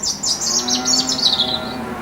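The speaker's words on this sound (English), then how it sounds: "And cows mooing." Cows mooing on a busy farm in the North Wales countryside, a steady close, loud lowing lasting the whole moment, with faint bird chirps above it and no talk.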